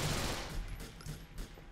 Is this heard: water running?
no